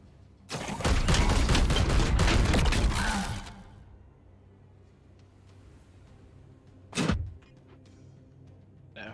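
Loud sustained burst of rapid gunfire from Warhammer 40,000: Chaos Gate - Daemonhunters runs about three seconds, then drops to a low hum before a single sharp crack near the end.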